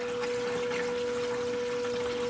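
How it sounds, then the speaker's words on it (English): Water in an aquarium sump runs steadily from the drain line into a filter sock, a soft continuous trickle over a faint constant pump hum, close and even throughout. "And then you can see the water coming up over the top, down underneath, back up and around."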